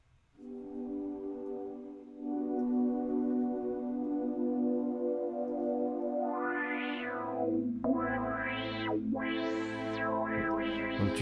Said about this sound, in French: Si je prends le autofilter, par exemple, je vais avoir un effet comme ça.